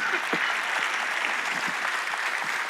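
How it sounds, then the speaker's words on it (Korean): A church congregation at a Wednesday worship service applauds, a steady wash of clapping filling the room at moderate volume with no voices over it. "박수."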